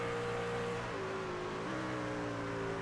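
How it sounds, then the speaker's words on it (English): Race truck engine in the Apex E-Series at World Wide Technology Raceway, a steady loud drone with shifting pitch as the driver shifts down early for engine braking, tones dropping and stepping between gears. "You hear him shifting a whole lot earlier to try to get the engine braking to slow this thing down."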